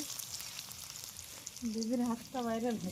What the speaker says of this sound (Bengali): চুলোর মধ্যে তেজপাতা এবং পেঁয়াজ আজ ভালোভাবে ভেজে নিচ্ছে